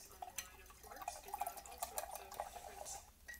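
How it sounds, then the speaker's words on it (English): A paintbrush is swished and rinsed in a water container, giving soft irregular splashes and drips up close, quiet and brief. "I'm going to rinse out my brush."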